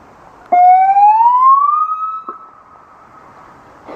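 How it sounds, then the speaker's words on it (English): A single loud siren whoop rises in pitch, holds briefly, then fades out, followed by quiet background. "we're gonna do the siren that everybody loves so much"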